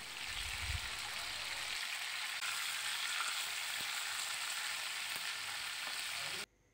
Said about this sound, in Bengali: একই তেলের মধ্যে এখন চিকেনটা একটু ভেজে নিব।